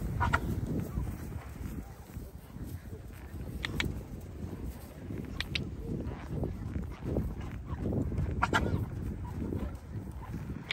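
A horse walks on a beach, with irregular hoof thuds and occasional sharper clops over a windy, rumbling background, and faint voices here and there.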